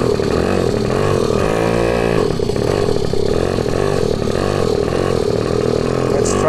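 A small pocket bike engine runs loud and close, a buzzing motor drone that rises and falls with the throttle, with no speech.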